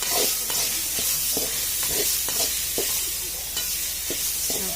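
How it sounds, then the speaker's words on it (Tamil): Crumbled leftover idli tossed with onions in hot oil for upma, with a constant sizzling bed and a string of rhythmic spatula scrapes and stirs close by. "கொட்டி நல்லா பிரட்டி விடுங்க."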